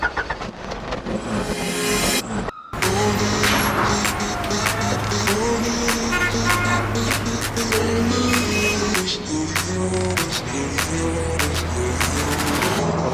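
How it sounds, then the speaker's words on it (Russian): A Honda Integra DC2 cruising at 70 km/h in fifth gear, its engine a steady in-cabin drone that stays loud and continuous throughout, with a brief dropout near the start. "сейчас мы едем со скоростью 70 км в час на 5-й передаче"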